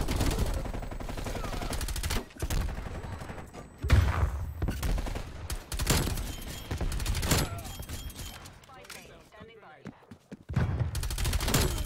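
Rapid bursts of gunfire from a nail gun in Call of Duty Cold War, loud and close, broken by short gaps, with heavy in-game combat noise around them.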